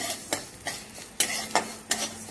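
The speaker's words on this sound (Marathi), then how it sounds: "ती पण थोडीशी तेल टाकून आपल्याला भाजून घ्यायची आहे।" Mustard seeds roasting in a little oil over low heat, a soft background sizzle broken by about six sharp scraping stir strokes of a utensil against the pan at a regular pace.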